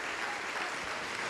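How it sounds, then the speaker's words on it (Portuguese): A church congregation applauds during a sermon, a steady dense wash of clapping that stays even and fairly distant for the whole stretch, with no voices over it. "Vamos aplaudir mais ao nome do Senhor Jesus, igreja."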